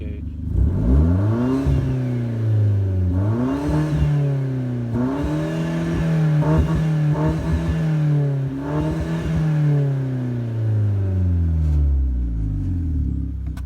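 A Hyundai Genesis Coupe R-Spec with a boost gauge and its hood removed revs hard several times, its engine note rising and falling in repeated swells, close and loud with a steady low rumble underneath.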